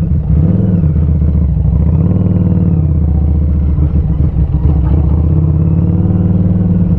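A motorcycle pulls away hard in first gear in traffic, its engine loud and close with a steady buzzing drone that rises and falls in pitch as it revs, wind noise mixed in and no talking.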